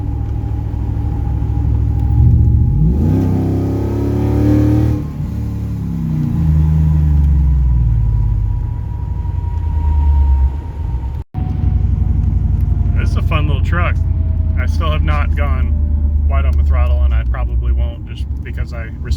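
A 1994 Ford Lightning pickup fitted with a Coyote engine drives along, its steady low engine rumble running throughout with a brief surge partway, and a person talks over it near the end.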